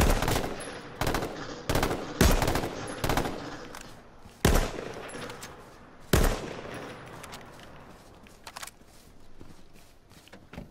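Gunfire in H1Z1 comes as a series of sharp, loud shots at irregular intervals, some in quick pairs, fading into quieter background noise toward the end.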